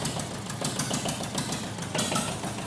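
Noisy tractor engine in the video game Farming Simulator 2013, a steady rough mechanical clatter with rapid knocking pulses running continuously and fairly loud throughout.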